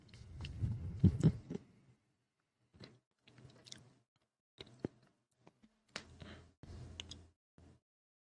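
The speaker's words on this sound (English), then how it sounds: "They hear me chewing" Someone chewing food close to the microphone, soft wet mastication bursts in irregular clusters separated by short pauses, with no talk.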